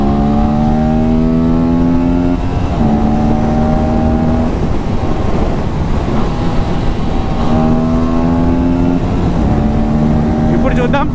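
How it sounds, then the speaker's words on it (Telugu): An Aprilia RS 457 motorcycle accelerates hard, its engine tone climbing and then dropping at quickshifter gear changes, repeated through the gears under heavy wind rush. "Third gear 113, so quick shifter వాడుతున్నా."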